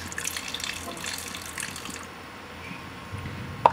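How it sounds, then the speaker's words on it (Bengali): Water is poured into a wok of taro stems for boiling, a steady splashing pour for about two seconds that eases into a softer trickle, with no talking. "আমি এখানে দিয়ে দিব পরিমাণ মতো পানি।"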